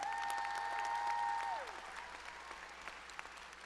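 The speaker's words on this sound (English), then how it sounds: "Let's get a round of applause for our musicians in the back" Quiet applause rises for the musicians at a college graduation ceremony, steady distant clapping that thins after a sustained tone fades out.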